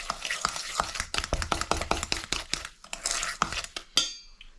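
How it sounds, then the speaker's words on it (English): Lime cookie filling is mixed by hand in a bowl, giving a close series of irregular scraping and clattering strokes, with a brief bright clink near the end. "I'm going to mix one at a time"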